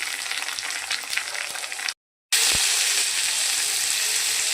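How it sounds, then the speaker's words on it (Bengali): Potato, carrot and gourd pieces fry in oil in a pan with a steady, bright sizzle that cuts out briefly mid-way and then resumes at the same level. "এগুলো একটু ভাজা হবে।"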